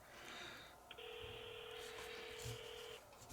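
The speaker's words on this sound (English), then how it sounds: "the watch is ringing now" A cheap $11 smartwatch rings with an incoming phone call: close electronic tones, a short beep, then a steady two-tone ring lasting about two seconds over faint background hiss.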